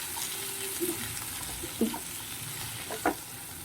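Egg pizza topping being stirred in a hot pan, a steady sizzle broken by a few soft scraping stirs, with no talking.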